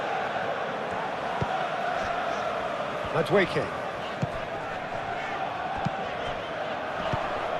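Steady stadium crowd roar in a PES 2021 football match between Arsenal and Manchester City at the Community Shield, a broad constant wash with a brief swell of shouts midway and match commentary over it.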